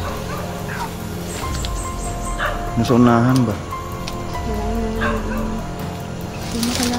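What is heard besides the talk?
dog barking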